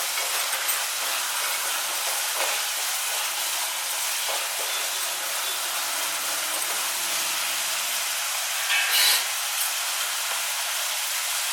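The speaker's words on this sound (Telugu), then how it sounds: "ఇది కొంచెం గోధుమ రంగు వచ్చేంత వరకు వేయించాలి ఈ ఉల్లిపాయ ముద్దను" Onion paste fries in a pan toward brown for Solala chicken, making a loud, unbroken, hissing sizzle close by with only slight variation throughout.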